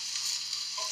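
Food sizzling on an outdoor grill, a steady close hiss and crackle of fat, brief and fairly quiet, with no voices.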